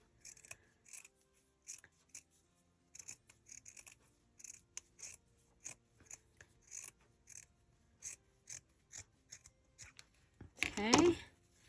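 Scissors snip through a piece of lace in a steady series of crisp, close cuts, with a quiet voice talking underneath and a louder rustle of fabric near the end.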